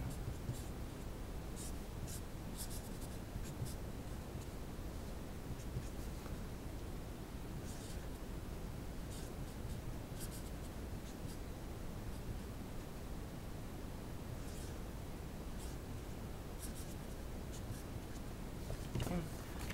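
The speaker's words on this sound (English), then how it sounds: "I'll write this out real quick" Pen or pencil writing out thermodynamics equations by hand: faint, intermittent scratching strokes in short bursts over a steady soft hiss, with no talking.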